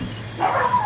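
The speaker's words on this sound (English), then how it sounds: "See, the neighbor's dog agrees too." A neighbor's dog gives a quick short bark, a single yip heard at a distance over outdoor background noise at a backyard barbecue.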